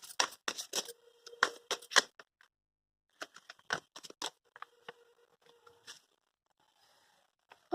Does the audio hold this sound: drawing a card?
yes